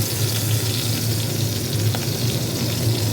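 Hilsa fish pieces frying in hot oil give a steady, dense sizzle that stays loud and even from start to finish, with no voices.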